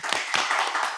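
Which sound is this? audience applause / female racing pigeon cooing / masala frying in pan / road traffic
audience applause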